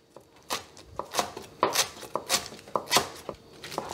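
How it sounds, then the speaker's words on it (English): A knife finely chopping ginger leaves on a board: quick, uneven taps in short runs, close and fairly soft, with no talking. "Ginger leaves, this is edible, so I am going to cut it very finely."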